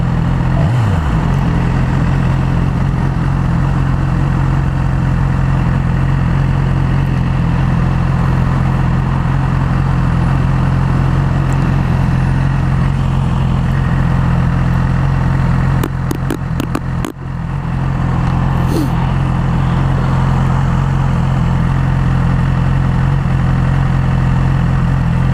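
A 2011 Yamaha R6 motorcycle engine idles in neutral, a steady, close, loud, even burble that holds constant for about 25 seconds with a brief dip midway.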